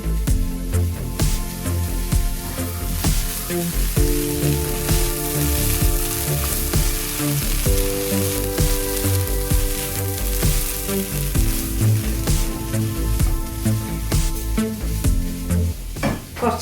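Grated coconut, about a cup, stir-frying in a hot pan for green gram thoran, a steady loud sizzle with scraping stirs and the clatter of a spoon throughout, no talk.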